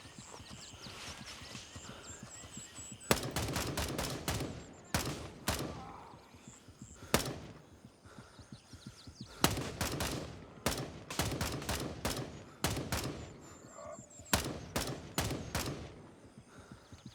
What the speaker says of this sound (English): Where is the shooting coming from?